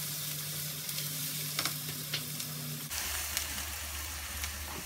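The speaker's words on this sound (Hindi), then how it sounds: "इसमें डाल देंगे अदरक लहसुन कुटा हुआ 1 टेबल स्पून भर के, और इसे भी हम सामने फ्राई कर लेंगे।" Crushed ginger and garlic fry in a pan with a steady close sizzle and occasional stirring scrapes; partway through the hiss shifts to a fuller, lower frying tone, with no talking.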